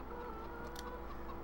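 Chickens cluck softly on a farm in the Farming Simulator 2013 video game, a faint steady murmur of clucks over a low background hum.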